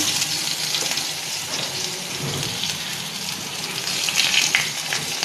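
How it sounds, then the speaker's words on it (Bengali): Marinated eggplant slices, coated in onion, ginger, garlic, turmeric and chilli powder, frying in a little oil in a frying pan, giving a dense, steady, rain-like sizzle up close with no voices. "ফ্রাইং প্যানে ভাজতে দিলাম।"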